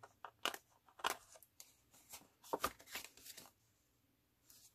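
Scissors trim a piece of paper card for a handmade card in a library craft class, giving several crisp, quiet snips and crunches with short pauses between them.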